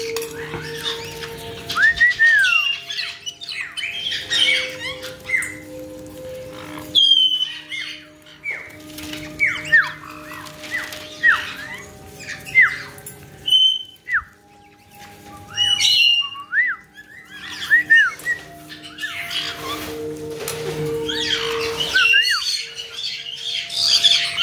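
Several pet birds squawk, whistle and chirp indoors over one another, loud and close, in bursts with brief lulls and occasional wing flaps, without talking.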